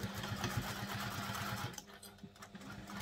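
A sewing machine bastes fabric for a Logan sling bag with a small seam allowance, following curves, its rapid steady stitching clear for almost two seconds before it stops, leaving quieter handling noises.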